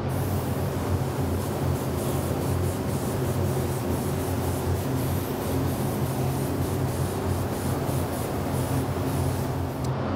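Spray paint hisses steadily onto a custom painted dinosaur bank, a continuous close broadband spray lasting the whole stretch with no talking.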